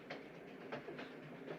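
Train running in a 1971 film, a steady rolling rumble with periodic clattering bursts, moderately quiet and without talk.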